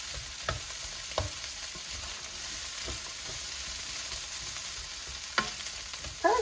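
Ground turkey and potatoes frying in a skillet, with a steady low sizzle and a few scattered stirring knocks and scrapes, fairly quiet and with no voices.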